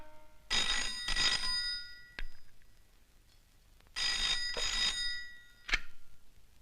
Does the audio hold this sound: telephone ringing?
yes